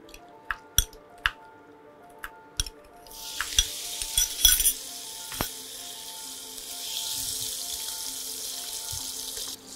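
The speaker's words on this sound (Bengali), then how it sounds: "এবারে চিংড়িটা দিয়ে দিচ্ছি তাহলে।" Prawns drop into a hot pan for Bengali radish greens and poppy seed cooking, starting a loud, steady sizzle that builds and holds after a series of sharp utensil clinks and taps.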